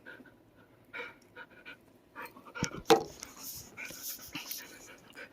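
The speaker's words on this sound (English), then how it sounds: "my dog likes to be babied" Panting comes close and steady from a pet dog, a female, broken by a few soft whimpers and a sharper yip near the middle, with small rustles but no speech.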